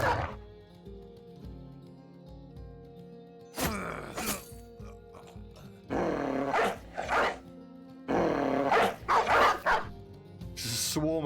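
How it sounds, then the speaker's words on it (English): A pack of dogs in the Battle Brothers video game barks and growls in loud, dense bursts over a steady low game soundtrack, with quieter stretches between the attacks. "Just a swarm of dogs."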